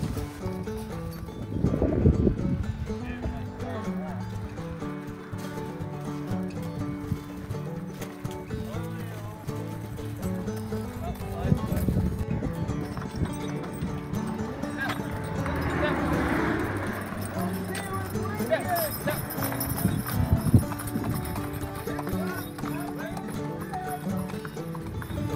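Horse hooves clip-clop steadily nearby as horses are unharnessed and led away, people talking and moving about, with an occasional whinny and faint jingling of tack.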